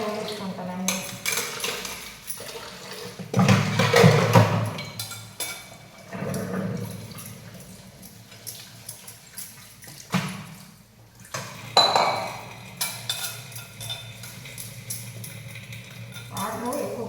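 Dishes and plates being washed with water in a home kitchen, with clattering pots, clinking cutlery and splashing that come in louder bursts between quieter stretches, while a voice talks in the background.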